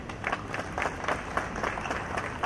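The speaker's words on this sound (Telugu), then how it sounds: "ఒకసారి ఆ రాజ్యాంగానికి మేమందరూ కూడా చప్పట్లు కొట్టాలి" An audience at a Republic Day gathering in Kurnool claps together, a dense, fairly even patter of many hands at moderate loudness heard from a little distance.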